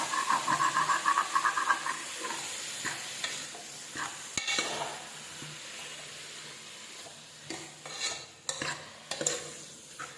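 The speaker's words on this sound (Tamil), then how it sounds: "சேர்த்து எல்லாத்தையும் ஒரு கிளறி விட்டுருலாம்" Bottle gourd and softened tomato fry in a pan, stirred with scattered scraping clicks and sharper knocks over a soft sizzle that is louder at first, then quieter.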